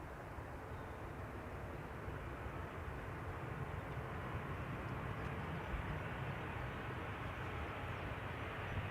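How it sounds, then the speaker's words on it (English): A SkyTeam-liveried Boeing 737 arriving from Zurich at Schiphol's Polderbaan, a steady broadband jet roar that holds at an even level across the whole stretch, distant and without talk. "this is the SkyTeam livery 737 arriving from Zurich"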